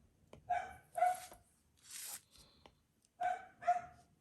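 Several dogs barking indoors in two paired bursts with a pause between, moderately loud and close, with no talking.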